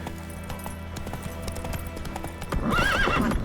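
A horse in the video game The Witcher 3 gallops with rapid rhythmic hoofbeats, then lets out a loud whinny near the end, close and without talk.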